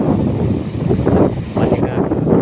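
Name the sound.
cold wind blowing at a water spring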